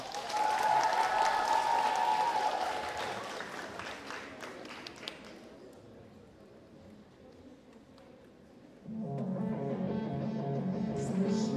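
An audience at an awards ceremony applauds loudly for several seconds; the clapping then fades, and music starts near the end.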